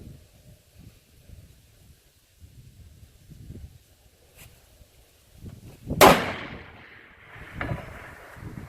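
A single Ruger American Predator rifle in 6.5 Creedmoor fires at a 400-yard target outdoors, one sharp crack with a short echo tail, set against steady wind noise and faint background sound.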